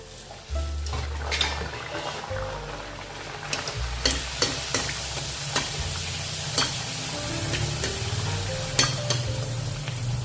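Stuffed potato pooris fry in hot oil with a continuous close sizzle, broken by repeated clinks and scrapes of a utensil against the pan as they are moved and turned, and no voices.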